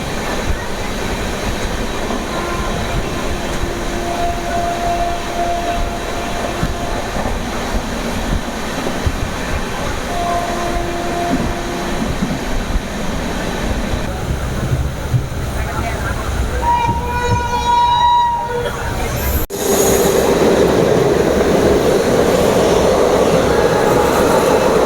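A Jan Shatabdi Express with new LHB coaches rolls along steadily, a continuous loud rail rumble with faint tonal whines, followed by a sudden louder rushing shift near the end.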